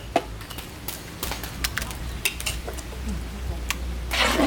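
A spoon clinks and scrapes irregularly against a cooking pot as a ground paste of coconut, fennel, cumin and poppy seeds is stirred into vegetable dalcha, close and fairly loud.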